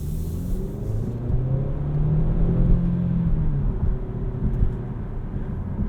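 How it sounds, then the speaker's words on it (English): Engine of a 2018 Kia Stinger 2.0-litre turbo AWD pulling under acceleration, a steady low drone with a slowly rising whir heard from inside the car, moderately loud and continuous. "The 2-liter turbo has just a tick of turbo lag, but it really pulls and works well with the transmission."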